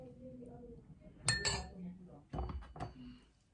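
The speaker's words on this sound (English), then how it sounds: "So I'm just trying to mix a concoction of that liberally." A spoon clinks against a small bowl while mixing a multani mitti and sandalwood powder face mask, two short bright clusters of taps close by, with a voice talking softly underneath.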